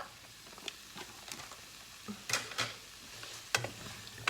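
Prawns and vegetables frying in a pan for fried rice, a soft steady sizzle broken by sharp scraping and clinking stirs, close and fairly quiet with no talking.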